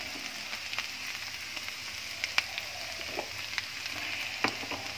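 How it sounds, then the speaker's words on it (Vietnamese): Bamboo shoots being stir-fried in a pan, a soft steady sizzle with occasional sharp clinks of a utensil against the pan, faint and close with no talking. "xào sơ qua cái măng này cho nó thấm."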